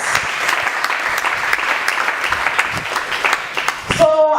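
Church congregation clapping for Jesus after a testimony of healing from coronavirus, steady and fairly loud applause from a crowd, fading near the end.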